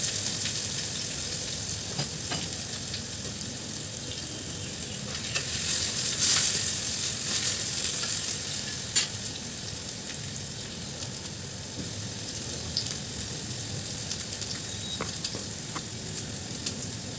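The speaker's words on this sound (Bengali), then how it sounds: "তেলটা বেশ গরম হয়ে গেছে, এবার আমি আলুগুলো দিয়ে দিলাম। এগুলো ভালো করে নাড়াচাড়া করে ভেজে নেব আমি।" Potatoes fry in hot mustard oil and get stirred in the pan, a steady close crackling sizzle that continues throughout, broken by occasional scrapes and light knocks of the spatula.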